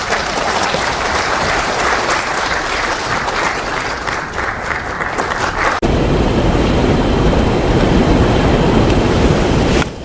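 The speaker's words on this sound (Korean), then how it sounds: "박수로 환영해 주시기 바랍니다." Loud, continuous applause from a lecture audience welcoming a speaker, dense and rushing, with an abrupt shift in tone midway as the clapping carries on.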